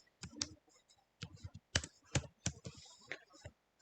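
Typing code on a computer keyboard while building a React grocery store website: bursts of crisp key clicks in uneven clusters, close and fairly quiet, with a few soft spoken sounds between them.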